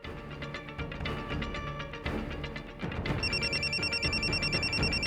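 A telephone rings in a Hindi TV drama scene, its repeated electronic warbling tones starting partway through and sounding clearly over loud background music.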